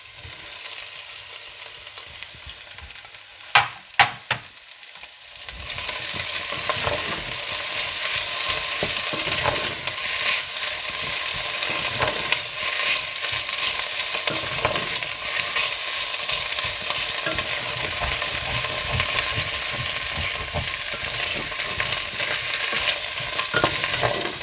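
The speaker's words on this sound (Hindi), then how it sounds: "इसके बाद इसमें शिमला मिर्चें और मशरूम्स डालकर मिला लें।" Capsicum and mushrooms stir-fried in a pan for Thai chicken noodles: a few sharp clinks, then a steady, loud sizzle with scraping stirring that runs continuously to the end, with no talking.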